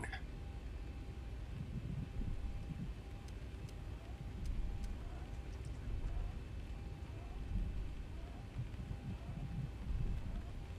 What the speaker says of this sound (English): Ooh, and there's the rain.